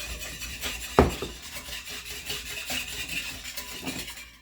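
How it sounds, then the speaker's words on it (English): An egg is whisked in a bowl, a continuous scraping and tapping of the whisk against the bowl with one sharper knock near the start, close and steady throughout. "just going to whisk this egg right here in the bowl."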